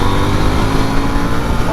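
A KTM 890 Duke R on its standard exhaust accelerates to overtake on a real-world road ride, producing a steady, fairly loud engine drone that rises slightly in pitch at the end, under wind noise.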